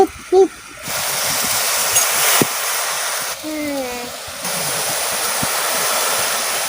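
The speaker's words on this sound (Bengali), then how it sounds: "তো চা কাপে আমি 1 কাপ জল দিয়ে দিচ্ছি।" A teacup's worth of water is poured into a pot to start a sugar syrup, a continuous splashing pour that runs for several seconds with a short break partway through.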